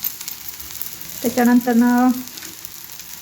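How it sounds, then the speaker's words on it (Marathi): Onion frying in a mustard seed tempering crackles with a constant close sizzle, while a voice speaks briefly in the middle. "इकडे बघा कांदा तळत आहे, मोहरीची फोडणी दिली आहे"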